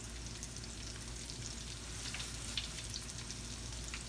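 Steady crackling sizzle of fish for tacos frying in hot oil, continuous and fairly soft, with scattered pops and no voices.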